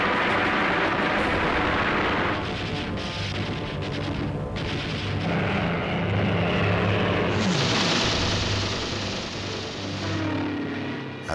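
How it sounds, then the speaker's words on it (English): WWII Spitfire and Hurricane fighter engines roar in a dogfight over London, a loud, continuous drone that swells and shifts in pitch as the aircraft pass. "The sky was full of dogfighting aircraft as the German formations broke up"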